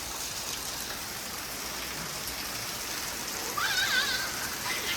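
Steady rain falling, a dense even hiss throughout, with a brief bird-like whistle near the end and no clear talk.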